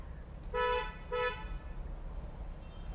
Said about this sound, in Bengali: যাও হর্ন দাও বড় করে